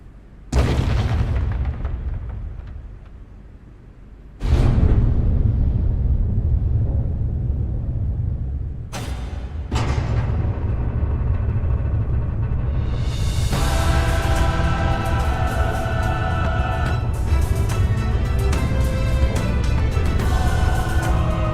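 A rocket in the video game nirvanA Initiative, heavy booming blasts that hit suddenly and leave a deep sustained rumble, followed by a roaring, rising whoosh that keeps building, loud and close.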